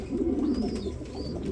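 Pigeons of Lahore and racer breeds coo softly in low, throaty murmurs, a close continuous burble with a faint higher chirp drifting above it.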